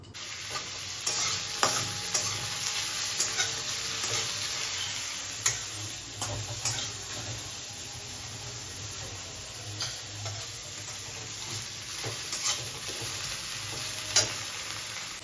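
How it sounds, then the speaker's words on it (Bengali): Onion and potato fry in hot oil with a constant close sizzle, punctuated by intermittent scraping and clinking stir strokes throughout, no talking. "তেলটা গরম করতে দিয়ে দিয়েছি এখানে, আর এখানে চুচ্ছে পেঁয়াজ একটু আলুটা ভেজে নেব জাস্ট"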